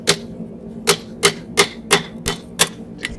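A hammer strikes a forged steel feather against the edge of an anvil, eight sharp ringing blows in an even, quick rhythm, close and loud.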